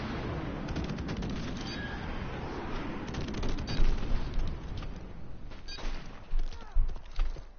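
Explosions from an airstrike in Modern Warfare Remastered, a run of heavy booms swelling and rolling over continuous battle noise, with several louder blasts toward the end and voices talking over the fight.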